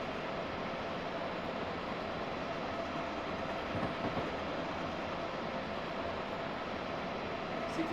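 A Northeast Regional passenger train running at about 70 mph between New York and New Haven gives a steady, dense roar of wheels and motion throughout, loud and continuous with no voices.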